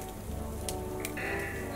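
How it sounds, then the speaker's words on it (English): Rain falling in the Roblox game Royal High: a brief, steady patter and hiss of raindrops over soft background music, with a couple of small chimes. "We got the beautiful rain."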